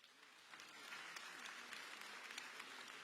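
A festival audience claps steadily for about three seconds. The applause is fairly soft and distant, builds slightly after the first half second and then holds even, with no talking over it.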